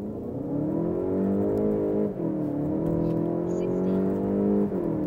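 A Volkswagen Golf 8 GTE plug-in hybrid hatchback, rated 245 hp, accelerating hard with a loud, steady, rising engine drone heard close up from inside, with short shifts in pitch around two seconds and near the end.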